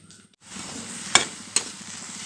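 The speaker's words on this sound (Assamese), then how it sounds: "এইখিনি এতিয়া অলপ ভাজি ল'ম" Chopped garlic, ginger and green chillies hit hot oil with a steady sizzle that begins after a brief quiet moment, with two sharp clinks of a spoon stirring the pan.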